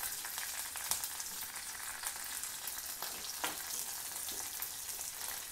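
Mustard seeds, cumin, curry leaves and garlic sizzle and fry in hot oil while tempering for a carrot chutney, a steady dense crackle with scattered pops and no voices.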